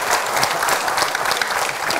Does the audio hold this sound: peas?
no